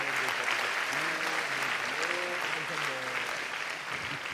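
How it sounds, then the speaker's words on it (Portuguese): A church congregation applauds in a dense, steady wash of clapping that runs throughout, with a voice speaking and cheering over it. "Pode aplaudir ao Senhor."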